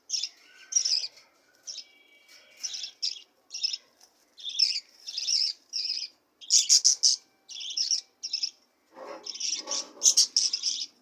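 Diamond dove chicks in a cage giving repeated high, thin chirping calls in short bursts with brief pauses, close and fairly soft, with a few lower squawky notes near the end.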